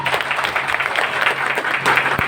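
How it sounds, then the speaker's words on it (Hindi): An audience bursts into dense, sustained applause, many hands clapping in a steady broadband roar that fills the whole moment at close range, with no voice rising above it. "उनके लिए जबरदस्त तालियां होनी चाहिए मिस्टर अजय कुमार सैनी के लिए"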